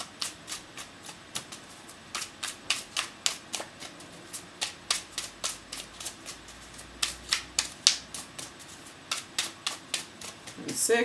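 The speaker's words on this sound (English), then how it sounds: "just give this a little bit of a shuffle" Crisp, repeated riffling snaps of tarot cards being shuffled in uneven bursts, close up and fairly quiet.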